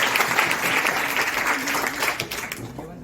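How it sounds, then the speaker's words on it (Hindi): An audience in a college hall at a Hindi department session applauds, a loud, dense stretch of many hands clapping at once that tapers slightly toward the end. "तालियों से सभागार होना चाहिए।"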